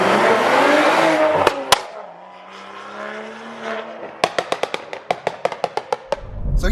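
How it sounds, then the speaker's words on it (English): A BMW M135i with an N55 engine starts cold with a loud exhaust, a heavy low idle that later breaks into a string of sharp cracks and pops, close and loud. "Cold start, ridiculously loud, but it just lasts for 30-40 seconds"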